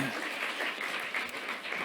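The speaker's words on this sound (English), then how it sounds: "Let's give her a round of applause again." Steady audience applause at a university commencement ceremony, a dense wash of many hands clapping continuously, fairly loud and even throughout.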